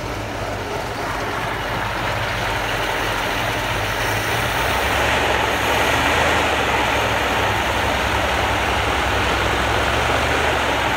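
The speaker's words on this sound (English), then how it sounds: "I hear a little small tick over on this other side. I've got a exhaust leak right here on this donut." A rebuilt 1966 Mustang GT engine idles steadily and loudly up close, its low rumble carrying a faint ticking from an exhaust leak at the donut gasket. No one speaks.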